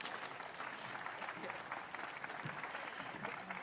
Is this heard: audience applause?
yes